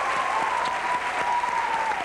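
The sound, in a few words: studio audience applause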